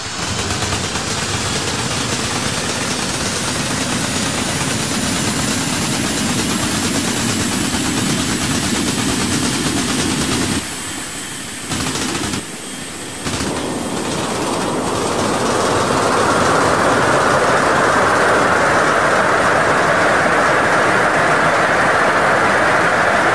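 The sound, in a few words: electric car motor sound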